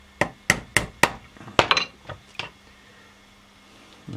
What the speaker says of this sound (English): allow me to just hammer it all the way through.